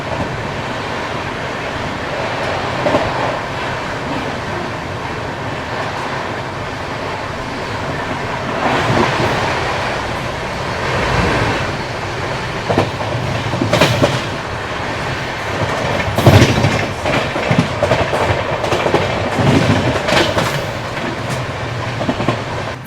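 Double-decker express train on Indian Railways, steady close rumble of wheels with rhythmic clickety-clack over rail joints, swelling in bursts, no voices.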